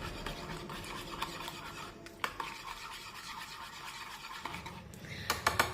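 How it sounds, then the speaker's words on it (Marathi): Eggs whisked with red chili powder, turmeric and salt in a bowl, a quiet continuous scraping and sloshing stir with a few sharper clinks of the spoon against the bowl near the end. "पुन्हा एकदा हे सर्व व्यवस्थित मिक्स करून घेऊ"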